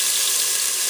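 Tomato paste fries in hot oil with a steady, close hiss that runs unbroken through the short moment.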